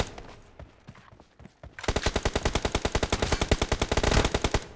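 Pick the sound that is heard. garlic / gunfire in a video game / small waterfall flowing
gunfire in a video game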